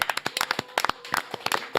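Studio hosts clap their hands after a bill passes, a quick run of sharp, close claps with an uneven rhythm, heard alone without talk.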